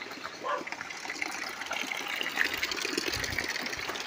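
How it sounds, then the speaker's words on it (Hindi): Spring water spills steadily from a stream beside a riverside hill village in Champawat, a continuous close gushing trickle with no voices over it. "धारे का पानी बहता हुआ"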